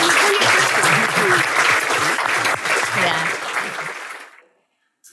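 Audience applause fills a talk event on masculinity, loud and dense at first and thinning out before it stops near the end, with some cheering and voices mixed in.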